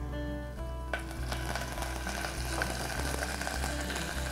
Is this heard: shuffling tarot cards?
no